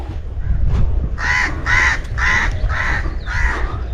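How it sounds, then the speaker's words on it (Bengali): Crows cawing in a casuarina forest near a sea beach, five harsh calls in a steady row, loud and close over a low rumble of wind. No one speaks. "দেখো শুধু পাখির কলরব শোনা যাচ্ছে"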